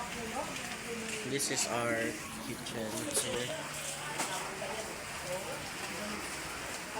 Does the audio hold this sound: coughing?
no